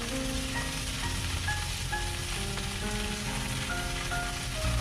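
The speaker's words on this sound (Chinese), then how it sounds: "再把刚才准备好的辣椒倒进来，煸炒辣椒2分钟" Green peppers stir-frying in pork fat in a wok give a loud, steady, close sizzle that holds unbroken for several seconds, with a faint tonal backdrop underneath.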